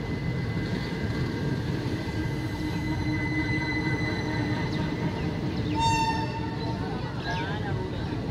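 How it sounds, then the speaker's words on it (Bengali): The Sealdah–Rampurhat Express, also called the Maa Tara Express, rumbles along in a steady, loud, continuous roar, with a brief high squeal of wheels near the end and talk over it. "শিয়ালদা রামপুরহাট এক্সপ্রেস, অনেকেই এক্সপ্রেসকে মা তারা এক্সপ্রেসও বলে।"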